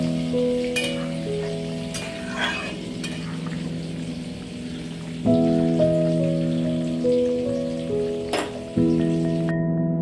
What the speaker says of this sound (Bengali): ডাঁটাটা ফুটে গেছে, ভালো করে ভেজে দেবো।